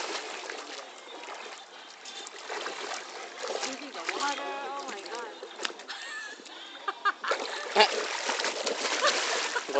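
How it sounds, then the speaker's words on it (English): A dog swims in a lake, splashing and sloshing water close by in irregular bursts, with a person's voice nearby at times. "Cody, go swimming, Cody."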